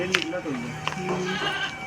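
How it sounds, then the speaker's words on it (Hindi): Goats bleat in a Mirzapur village setting, several short wavering cries overlapping close by while people talk over them. "वहाँ देखो कितनी बकरी।"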